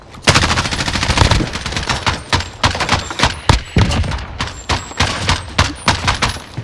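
Rapid bursts of automatic gunfire from a search and destroy round of a first-person shooter video game, sharp close shots in quick strings with brief gaps, punchy and loud, with no talking.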